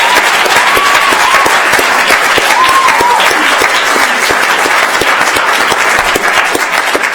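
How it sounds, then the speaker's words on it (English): Audience applause at an evening innovation competition awards ceremony, a loud, steady wash of many hands clapping that continues for the whole stretch, with no talking. "I just want one more round of applause for the judges and everyone involved and our contestants."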